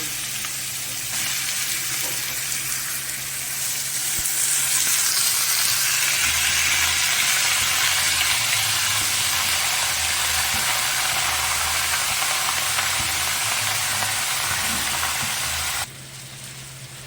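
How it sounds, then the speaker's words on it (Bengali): Chopped green papaya fries loudly in hot oil with cumin seeds, bay leaf, cloves and cardamom, a dense, continuous sizzle that swells after a few seconds and drops off sharply near the end. "তেল, জিরে, তেজপাতা, লবঙ্গ, এলাচ দিয়ে পেঁপেটাকে, কুচনো পেঁপে, সেটাকে রান্না করা হবে। এবার পেঁপেটাকে দিয়ে দেওয়া হবে।"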